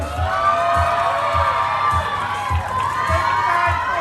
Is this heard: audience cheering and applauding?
yes